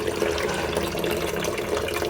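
Tap water runs steadily while dishes are washed in a home kitchen, a continuous close rush of flow with no pauses.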